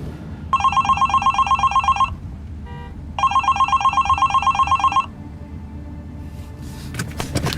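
A telephone bell rings in two long trilling bursts separated by a short pause, loud and close, followed by a brief rustle.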